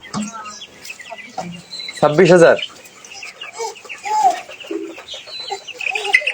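Broiler chickens on a family poultry farm cluck and squawk at close range, with one louder burst partway through, while someone talks over them.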